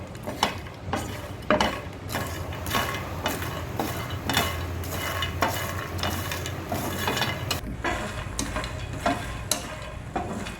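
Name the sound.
roasting fox nuts (makhana) in ghee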